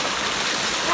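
Cold water flowing in an outdoor stream, a loud, steady broadband rush close to the microphone, continuous for the whole moment with no talking.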